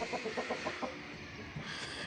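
A rooster kept for breeding gives a quick run of close, rhythmic clucks, then a softer stretch of farmyard noise, brief and alone without talk.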